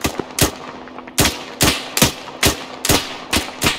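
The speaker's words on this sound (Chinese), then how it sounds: "开火开火，自由开火！" Rapid bursts of automatic gunfire from the military shooter ArmA, eight or so sharp, loud reports in uneven clusters, close and punchy with no voices.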